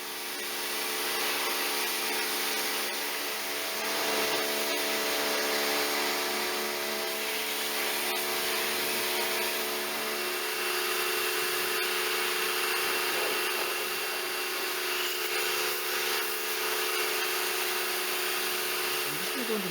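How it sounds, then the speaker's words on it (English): A Karcher pressure washer rinsing loose dirt off a Ford Ranger, a steady, broad hissing spray that runs on nearly unchanged at close range, with faint shifts as the jet moves across surfaces. "got the old Karcher ready. We're going to give it a good rinse down, get rid of all the loose dirt"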